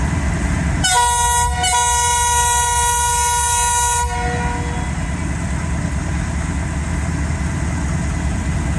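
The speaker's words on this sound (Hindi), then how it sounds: "अभी विसल होगा।" Locomotive whistle at Pattoki railway station in Pakistan, one loud sustained blast lasting about three seconds with a brief break near its start, over a steady engine rumble.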